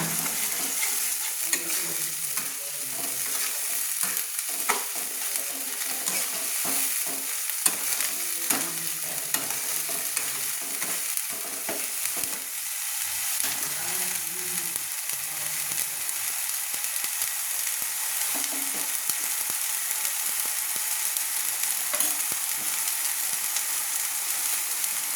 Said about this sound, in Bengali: পেঁয়াজের পেস্টটা দিয়ে দিলাম। এবার একটু নেড়ে নিচ্ছি।